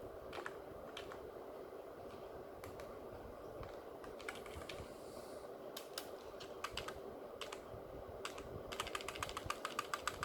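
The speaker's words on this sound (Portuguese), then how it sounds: "Então a gente digita aqui o ofício" Typing an official letter on a computer keyboard in an office, with soft, irregular key clicks running steadily and growing into a quicker, denser burst near the end, over a faint room hum.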